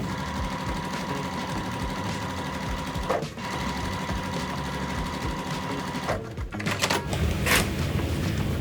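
A sewing machine runs steadily as quilt squares for a Halloween cat and spider web quilt are stitched along drawn lines, a continuous close whir with brief pauses and clicks near the middle and end.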